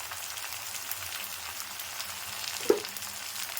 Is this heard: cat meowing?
no